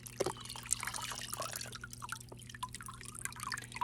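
Water drips from dried loofah sponges soaked for about ten minutes, giving scattered faint drips and small splashes at an uneven pace over a low steady hum.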